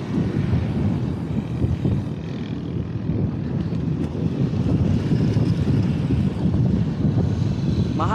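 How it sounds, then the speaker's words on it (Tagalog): Strong wind buffets the microphone at a seaside sunset spot in Currimao, a heavy, low, gusting roar that swells and dips over several seconds with no voices. "Mahangin pa rin."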